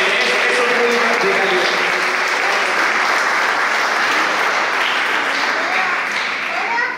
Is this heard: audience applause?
yes